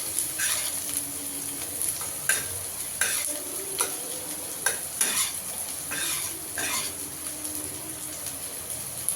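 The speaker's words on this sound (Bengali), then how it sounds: "পেঁয়াজটাকে একটু লাল লাল করে ভেজে নেব" Onion frying in a pan for a Bengali lote fish jhuri dish, a steady sizzle broken by repeated sharp scrapes and clinks of a stirring spoon against the pan, close and alone.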